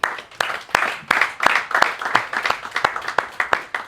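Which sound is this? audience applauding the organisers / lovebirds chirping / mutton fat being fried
audience applauding the organisers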